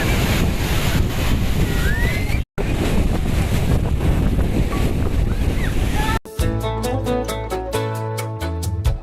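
Sea waves wash continuously at Alappuzha beach in Kerala, loud surf mixed with wind buffeting the microphone, briefly cut off twice before music takes over the final few seconds.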